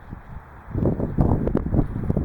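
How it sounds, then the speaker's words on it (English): A big outdoor wind gust in poor weather slams into the microphone, quiet at first, then building into a loud, sustained, irregular rumble of buffeting. "Notice there's a big gust of wind coming."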